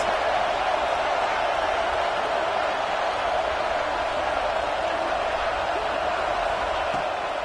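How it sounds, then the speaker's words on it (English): A football stadium crowd at a game roars in a steady, dense wash of noise that holds without a break throughout. "this crowd is getting behind this defense"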